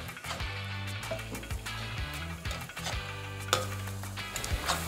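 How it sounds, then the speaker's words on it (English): Pancakes sizzle steadily in a pan of coconut oil after being flipped, a continuous frying hiss under prominent background music with a few soft utensil taps. "You can already tell that these ones are ready to flip, so let's flip it."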